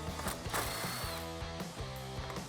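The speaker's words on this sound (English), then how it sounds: "There's one 10mm bolt holding that guy in place, so let's get that off." A ratchet with a socket turns a bolt on the air box of a 2009-2021 Dodge Challenger 5.7L HEMI, giving a quiet, close run of rapid clicking pawl strokes.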